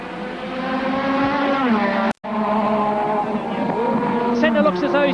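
Turbocharged Formula One cars at a 1985 race scream steadily at high revs, engine pitch rising and falling through gear changes, with a brief dropout and a second car's whine joining near the end, under a commentator's voice.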